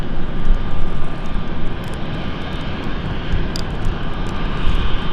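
A fixed-wing airliner takes off from Runway 27 at London City Airport in the evening, its engines a loud, continuous roar that swells and eases slightly across the whole stretch.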